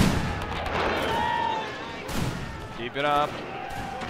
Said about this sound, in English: They are actually firing back at this point.